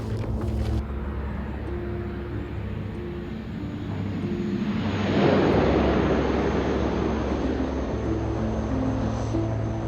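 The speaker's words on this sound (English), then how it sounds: "There's the plane coming." A propeller airplane approaches over a South Sudan airstrip, its drone steady and broadband, swelling gradually toward the middle and then holding loud, heard alone without talk.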